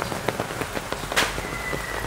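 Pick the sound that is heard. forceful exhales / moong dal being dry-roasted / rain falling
rain falling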